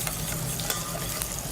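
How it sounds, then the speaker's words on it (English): Hot melted butter is whisked into egg yolks in a bowl, a quick, continuous scraping and wet stirring that stays close and steady throughout. "we're going to slowly add the butter into the egg yolks and whisk"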